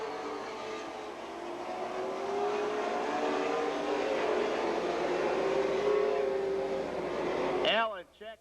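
Stock race cars lapping Golden Sands Speedway in Wisconsin Rapids during a Wisconsin Challenge Series race, a sustained loud engine roar swelling and holding as the pack passes, then cutting off abruptly at the end.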